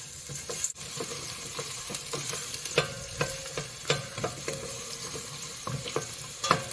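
Lunch cooking in a large new pot, with repeated sharp scraping stirs against the pot over a steady close sizzle of frying food; no talking.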